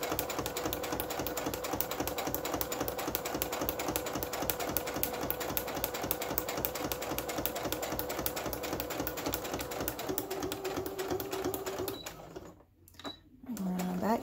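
A sewing machine stitches a paper lapbook pocket, a steady, rapid needle clatter that runs evenly for about twelve seconds before stopping, followed by a few small handling sounds.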